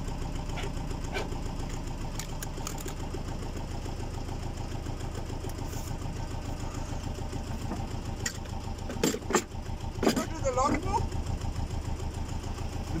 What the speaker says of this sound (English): A motor in there.